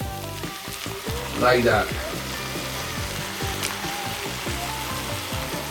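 Eggs sizzling steadily in a pan, a constant close crackle and hiss with a brief louder burst of spattering, while someone talks over it.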